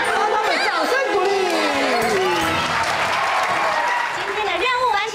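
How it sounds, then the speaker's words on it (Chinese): A group of children clap and cheer together at a kids' show, with steady applause and excited chatter filling the whole stretch, and adult voices mixed in. "让他们掌声鼓励。"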